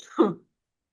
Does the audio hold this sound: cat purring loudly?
no